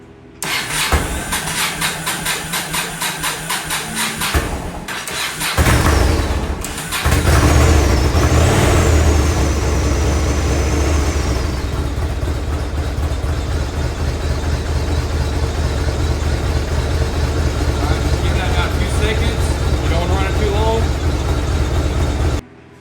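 A 2001 Yamaha Road Star motorcycle cranks over in a garage, catches after several seconds and settles into a loud, steady, close idle with choke on, lasting until it cuts off at the end.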